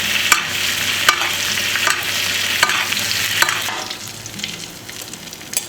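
A porterhouse steak sizzles steadily in a hot pan while butter is spooned over it, with a sharp clink of the spoon against the pan about every second.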